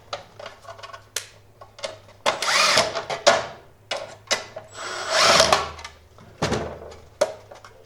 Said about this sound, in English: it works really good for drilling right next to already existing holes